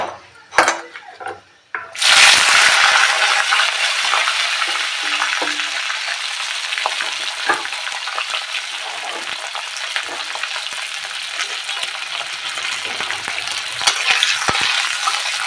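Sliced onions hit a hot pan for a prawn do pyaaza, bursting into a loud close sizzle after a couple of sharp clatters, then settling into steady frying with the scrape of stirring throughout.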